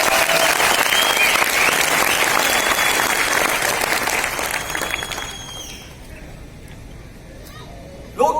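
An audience at a corporate celebration applauds the team with dense, loud clapping that fades over the last few seconds into a quieter room.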